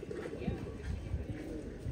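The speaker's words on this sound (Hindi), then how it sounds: "बेहतरीन कबूतर है।" Pigeons coo softly in a loft, low throaty burbles repeating beneath a voice talking nearby.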